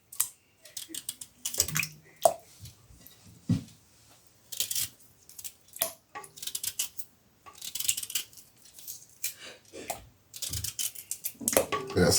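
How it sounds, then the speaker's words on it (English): Beetroot is chopped into bits that fall into a pan of water, heard as sharp irregular cuts and wet plops and clinks, close by, spread across the clip with short pauses between them. "we're just going to chop them up into bits like this into the water."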